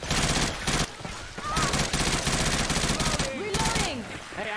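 Rapid machine gun fire in Left 4 Dead 2 rattles loud and close in long sustained bursts, broken by a couple of brief pauses, with faint voices mixed in.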